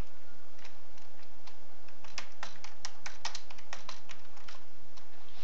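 Typing text on a computer keyboard during 3ds Max modeling work, a run of crisp, close key clicks in an irregular rhythm, a few quick strokes then a denser flurry, with no talking.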